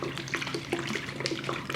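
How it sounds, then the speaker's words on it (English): Lemon juice is poured over sliced apples, producing a short run of light splashing and dripping, close and moderately loud with no talk. "I'm going to pour a little bit of lemon juice on top of the apples."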